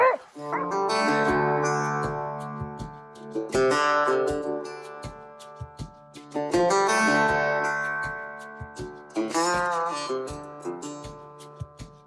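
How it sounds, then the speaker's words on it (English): Hunting dogs outdoors let out repeated high, drawn-out whines and yelping barks in several long bursts, loud and close, with short gaps and scattered clicks between them. "Good dogs."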